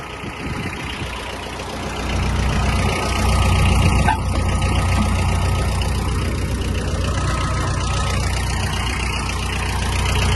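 A Japanese Mitsubishi MT-246 mini tractor engine idles with the brake set, a loud steady low rumble with a slight rise in level partway through, continuous and close.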